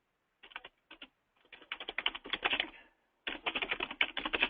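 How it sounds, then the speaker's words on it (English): Computer keyboard typing at a quiet distance, a few isolated key taps followed by faster bursts of clicking, a pause, then another rapid run of keystrokes. "Looks like he might be typing it in."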